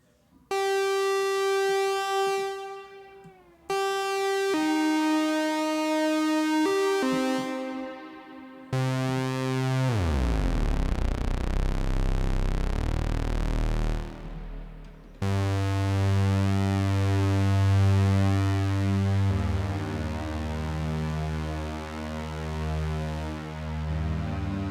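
Sustained synth-like tones pass through a Nanopack Nano Reverb pedal fed from a delay output. The notes are loud and held, with shifting pitches, long washy tails and swelling drones, and no voice.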